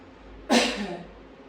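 A single sharp cough, close and clear, against a quiet background.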